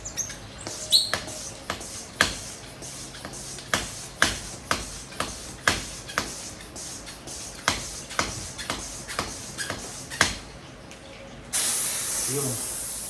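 Air hissing out of the bleeder valve of a CO2 air rifle fitted for a PCP hand pump, a steady close rush of escaping gas arriving after a long run of sharp clicking taps.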